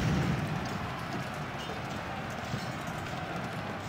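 Massed horse hooves thunder continuously in a Civil War battle from Ultimate General: Civil War, a dense steady clatter with a heavier burst at the start and no voices.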